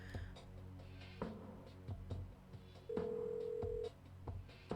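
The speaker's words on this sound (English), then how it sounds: "Oh no! I called the Wade residence!" In the Kathy Rain video game, a telephone call connects with clicks and dialing sounds, then a steady electronic tone holds for about a second, heard close and clear.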